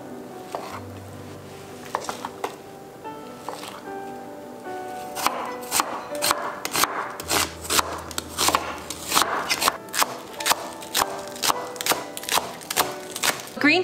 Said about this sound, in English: So now I'm gonna cut these up into smaller pieces, same with the green onions and the regular onions